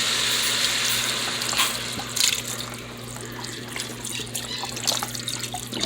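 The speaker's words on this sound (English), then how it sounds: "32 ounces of chicken stock, and I'm basically going to add all of it." Chicken stock, a full 32-ounce carton, pours steadily into a soup pot for chicken tortellini soup, a continuous liquid gushing and splashing that runs close and fairly loud throughout with no talking.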